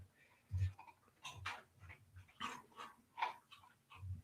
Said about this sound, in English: Can you hear my dogs crunching?